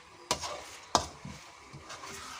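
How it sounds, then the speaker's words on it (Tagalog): Homemade chili garlic oil stirred in a pan, two sharp scraping strokes of a utensil over a quiet, faint sizzle, with no one talking. "haluin natin siya"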